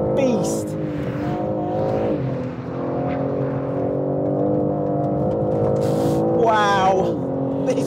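A BMW M3 Competition engine revs and climbs in pitch through several gear changes, loud and close, with a voice speaking over it at times.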